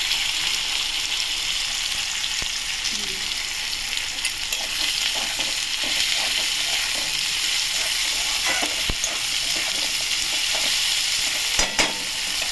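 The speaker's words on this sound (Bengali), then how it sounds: "আমি আলু কেটে রাখা 3-4টি আলু দিয়ে দিলাম ছোটো ছোটো। তাহলে ভালো করে ভাজবো।" Potatoes sizzle in hot oil with a steady, crackling hiss, and a few stirring scrapes come through near the end.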